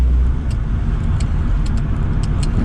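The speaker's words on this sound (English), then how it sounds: "I love the gear changes on it. I really do. Because you get a nice little click." Small, sharp gear-change clicks sound a few times over a steady, loud rumble of a three-wheeler car's engine and road noise.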